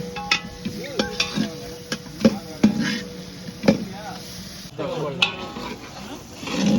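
Onions fry with a handful of curry leaves and turmeric in a pan, hissing steadily while a spoon scrapes and knocks against the metal in irregular strokes, with faint voices in the background.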